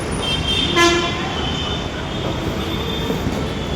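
A train horn sounds briefly at Secunderabad railway station, a short tonal toot rising over loud, continuous rail and platform noise that keeps rumbling throughout.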